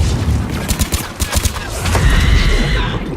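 Rapid gunfire in a video game, with repeated sharp shots and bursts over a busy, noisy mix of game sounds, loud and close throughout.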